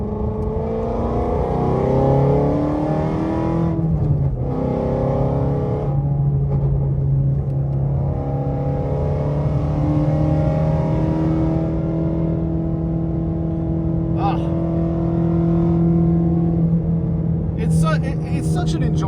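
A manual Shelby GT350R engine revs and pulls through the gears while driving, a loud rising and falling drone with pitch sweeps as it shifts, steady and close throughout.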